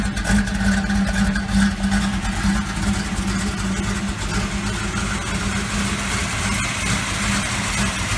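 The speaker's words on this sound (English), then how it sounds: "See that old 350 running in there. Sounds pretty good." A 1972 Chevy C10's 350 V8 idles steadily with a deep, even rumble and an unknown muffler, running loud and continuous without any voices.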